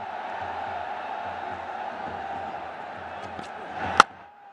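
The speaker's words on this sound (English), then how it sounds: "Every single game, day or night, the crowds are in." A large crowd murmurs and roars steadily at a BPL T20 cricket match in Bangladesh, a continuous distant wash of noise with a sharp single crack near the end and a commentator speaking over it.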